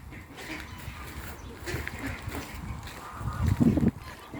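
Geese and ducks honk and quack by a river in Norway as they are fed, a busy cluster of calls over outdoor rumble, louder honks near the end, with people talking faintly.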